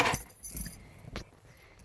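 A brief metallic jingle of car keys near the start, followed by a sharper clink a moment later, then quiet room noise.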